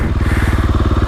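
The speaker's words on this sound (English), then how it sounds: "The bike's still running." A running motorcycle engine sounds close and loud, with a steady, rapid pulsing throb and no voices.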